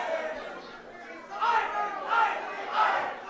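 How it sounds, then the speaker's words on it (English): A crowd at a live wrestling event in an arena shouts and heckles in rising waves of jeering voices, with about three loud surges above a constant murmur. "Listen to that crowd."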